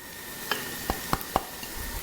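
Minced vegetables and spices fry in a pan for vermicelli chorba, a soft steady sizzle broken by four or five sharp clicks of a utensil stirring against the pan.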